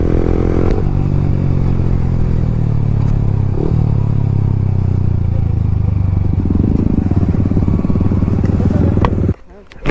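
A motorcycle roars at top speed in a drag race between a V3 and an NS160, its engine drone loud and continuous under heavy wind rush, ending in a brief drop.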